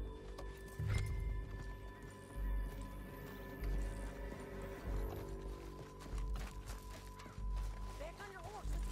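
Horse hooves clip-clop in Red Dead Redemption 2 under a steady game soundscape, a rhythmic trot of several hoofbeats running through the whole stretch, moderately near, with a brief whinny-like sound and some low ambient noise.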